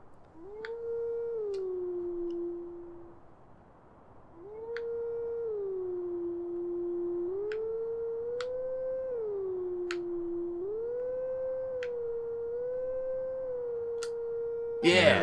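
Wolf Link howls in the Zelda Twilight Princess video game, a series of clear, tonal sustained notes stepping up and down in a melody with brief pauses, alone against a quiet background.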